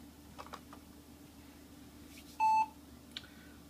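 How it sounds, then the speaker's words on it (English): A vintage NEC PowerMate V100 PC gives a single short, clear electronic POST beep while booting, standing out over a quiet background hum with a few faint clicks before and after. "Okay, post beep, no errors, booting to Windows."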